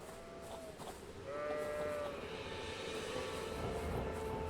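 Odd-looking sheep in the video game Elden Ring bleat in a few wavering calls amid steady outdoor ambience, moderately distant and fairly faint.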